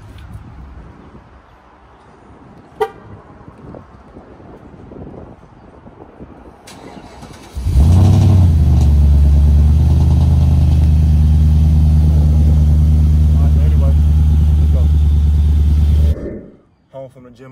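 After quiet background noise and a click, a car engine cranks and catches, then roars at a loud, sustained rev for about eight seconds before cutting off abruptly.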